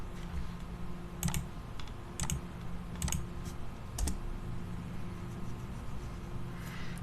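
Keys tapped on a computer keyboard in short bursts of three or four quick clicks, repeating about once a second over a low steady hum, with no voices.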